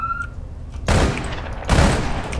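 Two loud, sharp gunfire bursts in the online game APB Reloaded, each a short volley of overlapping shots, with a quiet stretch before the first.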